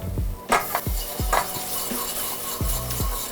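A whisk stirs milk into a hot roux in a pot for macaroni and cheese, close and fairly loud, with repeated metallic knocks and a soft sizzling wash running throughout.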